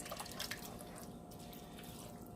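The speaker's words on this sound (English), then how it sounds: "Now I'm going to pour a little bit of this sauce, green chili sauce, in here." Green chili sauce poured into a chicken enchilada casserole dish, a steady close liquid splashing and trickling that runs continuously for a couple of seconds with no talk.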